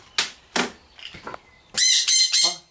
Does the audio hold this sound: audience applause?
no